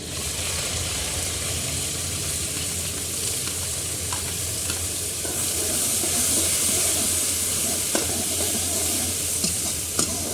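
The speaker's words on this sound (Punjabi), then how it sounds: "ਜੀਰਾ ਆਪਾਂ ਪਾਤਾ ਨਾਲ ਹੀ ਆਪਾਂ ਪਾ ਦਾਂਗੇ ਪਿਆਜ਼" Onion and cumin sizzle in a hot pan for a Punjabi vegetable dish, giving a steady loud frying hiss with occasional stirring scrapes and no talking.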